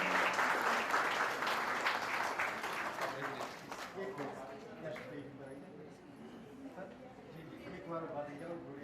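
Audience applause at an education seminar of a community society in Gujarat, loud clapping that fades after a few seconds into murmuring voices and room chatter.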